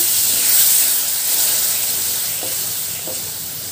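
Milk poured into a hot pan and stirred for sheera, producing a loud, steady steamy hiss and sizzle with a few soft spoon taps.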